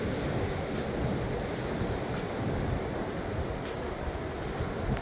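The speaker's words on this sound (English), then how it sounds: "I love these waves." Steady ocean surf rolling onto a beach, a continuous broad wash of breaking waves with some wind buffeting the microphone, loud and constant throughout.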